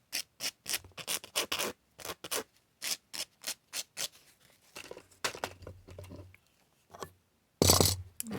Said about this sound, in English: And always sand the edge of that too.